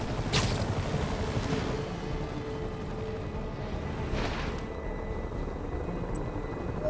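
Helicopters fly over a city in the video game Marvel's Spider-Man, giving a continuous low rotor rumble and whir that holds steady throughout, with a couple of brief whooshes passing over it.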